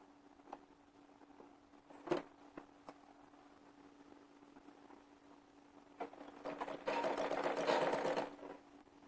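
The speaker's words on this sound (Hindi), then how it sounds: "अब इसको यहाँ बीचों बीच से ऐसे सिलाई लगाना है" A sewing machine stitches magji piping down the middle of a Rajasthani poshak kurti: faint scattered clicks, then one steady run of rapid needle chatter lasting about two seconds, fairly quiet in a still room.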